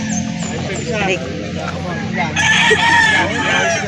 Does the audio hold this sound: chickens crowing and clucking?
yes